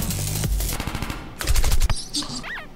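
Rapid bursts of gunfire aimed at the player in the Henry Stickmin video game, sharp repeated shots in quick clusters, loud and close.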